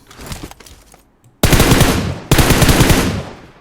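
Mini14 rifle fire in the PUBG Mobile battle royale on Erangel: two loud, close bursts of rapid shots cut in sharply after some quieter, softer shots at the start.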